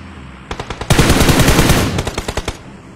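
Video game gunfire in a competitive scrim: quick separate shots, then a dense automatic burst, then more rapid single shots, loud and close with no talk over it.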